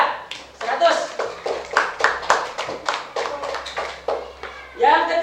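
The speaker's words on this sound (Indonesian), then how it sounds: "tepuk tangan untuk Faisal" Elementary school pupils in a grade 6 Islamic religious education class clap in a short rhythmic burst of distinct, fairly close claps, with voices talking over it and one voice rising near the end.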